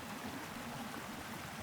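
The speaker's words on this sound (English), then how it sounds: "it's probably just the sounds of like the river and the wind" A river rushing through Provo Canyon, heard as a steady, broad wash of flowing water with no breaks, close and continuous.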